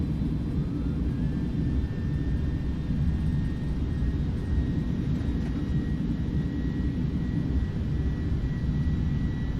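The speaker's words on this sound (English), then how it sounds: "I'll just engage reverse thrust, slow down the aircraft." Airbus A310 jet engines roar in reverse thrust after landing in Microsoft Flight Simulator 2020, a loud, steady broadband rumble and whoosh holding level throughout, with a faint whine above it.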